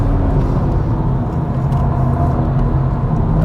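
BMW M140i xDrive hatchback pulling hard out of a corner on the Nürburgring, a loud, steady in-car engine drone with deep rumble and rising revs throughout, no voices.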